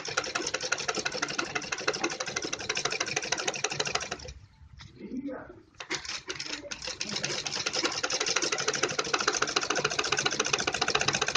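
Domestic sewing machine stitching the neckline of a blouse, a steady, rapid mechanical whir up close that pauses for about a second midway, with a faint voice in the gap, then runs on evenly.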